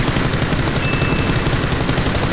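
Rapid automatic gunfire in PUBG, a dense, steady stream of loud shots with no pause over the short stretch.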